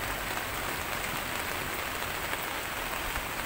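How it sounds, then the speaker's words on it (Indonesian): Heavy storm rain pours down in a dense, constant hiss, close and loud, steady throughout with no speech. "dari semalam hujan badai, hujan petir."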